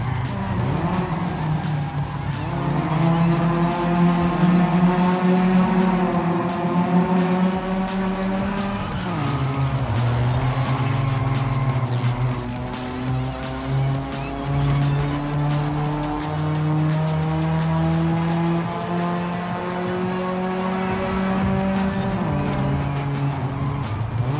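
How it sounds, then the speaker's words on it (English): A Volkswagen Passat is driven in Forza Horizon 5, its engine droning loudly through repeated rising revs with gear changes, while tires squeal and skid in places over a long continuous run. "it's a Passat from way back when"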